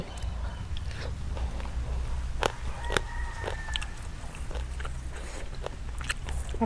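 Someone bites and chews food during a spicy Isan meal of larb with catfish, producing a few sharp close crunches and smacks over steady background noise, with no speech.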